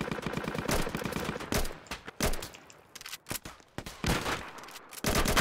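Gunfire from a newly equipped gun in a war roleplay video game, loud rapid bursts of automatic shots broken by short pauses and single shots.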